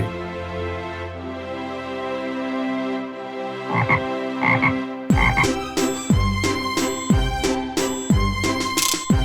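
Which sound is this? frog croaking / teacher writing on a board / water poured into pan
frog croaking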